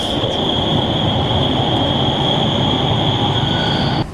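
A loud, sustained high-pitched squeal of Swiss train brakes inside a tunnel over a heavy rumbling roar of rail cars, cutting off abruptly near the end.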